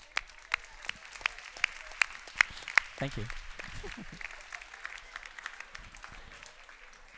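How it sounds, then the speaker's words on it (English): Audience applause at a keynote talk, a scattered burst of clapping with a speaker's voice over it at the start. "And give yourself a round of applause."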